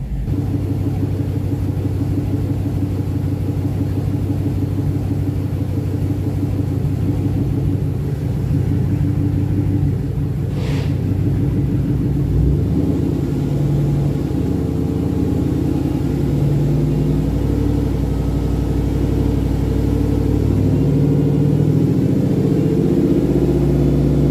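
A 2006-2010 Dodge Charger SRT8 drives along with a steady low engine rumble and road noise, which swells slightly partway through as it accelerates, with no talk.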